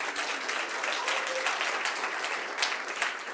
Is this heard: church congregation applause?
yes